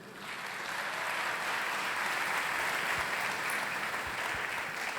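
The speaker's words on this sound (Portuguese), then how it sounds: "Clap for Jesus. Aplauda para Jesus." A congregation at a church revival service breaks into loud, sustained applause that swells within the first second and holds dense and steady to the end.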